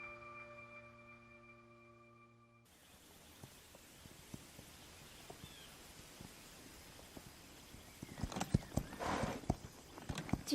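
A horse in The Legend of Zelda: Breath of the Wild clip-clops along after a short musical chord fades out, its hoofbeats steady at first and growing louder and busier toward the end, with a possible whinny.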